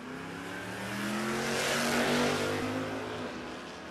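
Drag racing cars, a Holden HZ and a Ford Falcon Ute, roar along the strip at Warwick Dragway, Australia, their engines swelling to a loud pass-by peak and then fading, heard from the track side.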